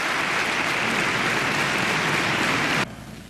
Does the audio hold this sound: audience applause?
yes